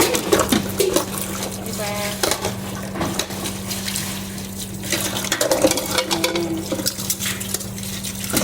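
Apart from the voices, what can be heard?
water running in sink while washing dishes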